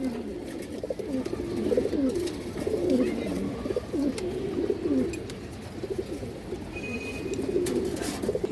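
Pigeons coo in repeated soft, throaty phrases close by, where a large female pigeon is being shown, with a low room murmur underneath.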